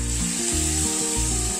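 Okra cooking in a pan with besan, Rajasthani style, sizzles steadily while being stirred once after the lid comes off, a close, continuous frying hiss with soft scraping underneath.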